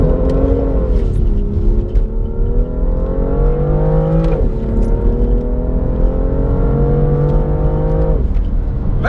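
BMW M240i accelerating hard, its engine revving loud and close in steady climbs, with brief dips at each gear change over several seconds.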